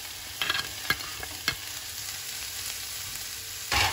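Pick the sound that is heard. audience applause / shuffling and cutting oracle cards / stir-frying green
stir-frying green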